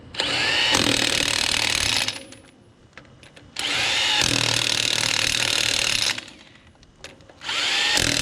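An impact-style power tool zings down the 5H flange nuts on an old 8-lug trailer wheel, with two loud sustained bursts of whirring and rattling separated by a quiet pause and a third burst starting at the end.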